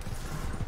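Horse hooves clip-clop in Red Dead Redemption 2, a short, dense run of steady thuds under a loud, broadband wash of game ambience.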